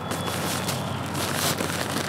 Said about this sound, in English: There's some construction going on behind the camera.